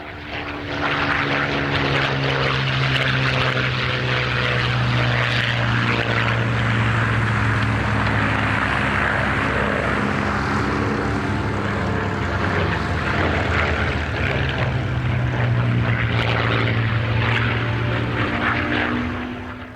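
A propeller aircraft flies at the Australian International Airshow, its engine drone loud and steady for about twenty seconds, with the pitch rising and falling slightly as it passes.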